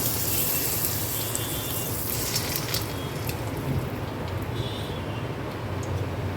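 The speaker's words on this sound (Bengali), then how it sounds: "দেখো ভেজে নিলাম, কয়েকটা ভেজে আমি তোমাদের দেখিয়ে দিচ্ছি।" Raw potato papads fry in hot oil over a low flame. A dense, even hiss and crackle holds steady and close for the whole stretch, with no talking.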